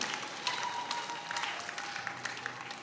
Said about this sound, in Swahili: Please stand up, we'll give them a big clap.